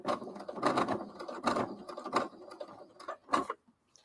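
A sewing machine stitches a tiny quarter-inch pleat on a tabard in several quick, close bursts of rapid mechanical chatter with short pauses, then stops.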